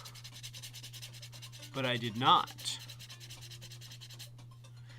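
Brief bursts of rough sanding strokes rubbing back and forth on sculpted clay, close and fairly loud over a steady low hum, with a couple of spoken words.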